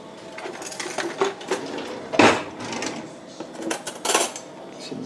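A spoon stirs half a box of pasta in an overfilled pot of boiling water, giving scattered light metallic clinks and scrapes against the pot, close by, with no one talking.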